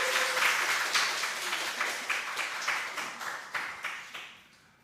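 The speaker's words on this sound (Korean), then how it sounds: "박수 한번" A church congregation at a Sunday worship service applauds, with moderately loud clapping that carries a rhythmic pulse and fades out toward the end.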